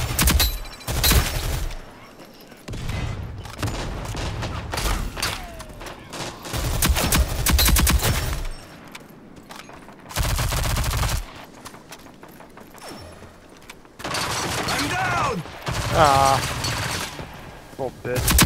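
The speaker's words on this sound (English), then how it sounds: "Oh, that's a gun." Video game gunfire in Rogue Company, with dense bursts of automatic shots and rapid volleys alternating with brief lulls, loud and close, while a player talks intermittently and in-game announcer lines play.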